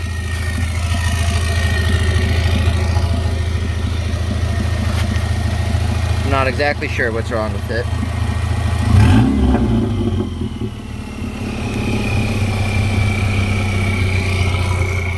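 A 1992 Subaru Legacy with a 2.2 engine, added turbo, five-speed and rear-wheel-drive conversion, its engine previously blown up, idles with a steady low rumble and gives a short rev midway while someone talks over it.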